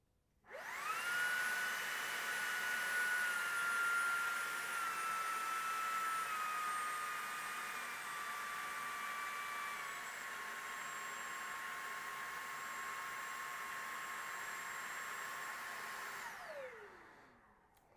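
Shark Detect Pro vacuum cleaner running in automatic medium mode, a steady whining whoosh that starts abruptly, holds for about fifteen seconds with a slight dip in pitch, then winds down, alone without talk.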